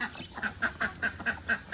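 Ducks on a small farm quack in a steady run of about eight short calls, evenly spaced and fairly close, with no talk.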